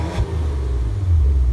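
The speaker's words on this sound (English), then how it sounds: "Now here's sport exhaust." Sport-mode exhaust note of a 2017 Maserati Levante, a deep, loud, steady rumble close by, swelling slightly toward the end with no talking.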